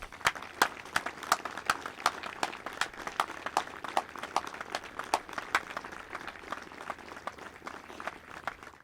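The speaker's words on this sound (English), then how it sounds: "I'd like us to look up and give an applause for Derrick" A crowd applauds at a baseball field dedication, with sustained clapping from a modest group outdoors, steady and moderately loud throughout with no one speaking over it.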